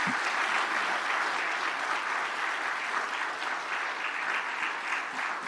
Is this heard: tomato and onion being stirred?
no